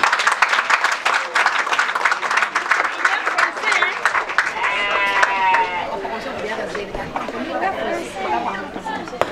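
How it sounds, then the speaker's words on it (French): Guests at a dowry ceremony in Brazzaville clap and cheer for the bride, with loud chatter and high, wavering voices mixed into the applause throughout. "Est-ce que vous pouvez applaudir pour elle?"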